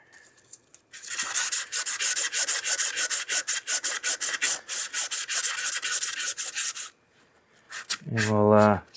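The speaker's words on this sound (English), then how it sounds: "I'm just sanding the end here." Rapid rhythmic sanding strokes on the end of a Spider-Man bust, a dense rasping scratch repeated back and forth for several seconds, then a brief voice at the end.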